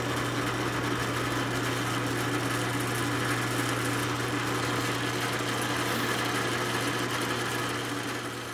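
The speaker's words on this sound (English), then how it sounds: "This counterbore that I'm drilling here" A drill boring a counterbore into a wooden slide, a steady, loud continuous motor whine with a strong low hum that holds unbroken throughout, with no talking.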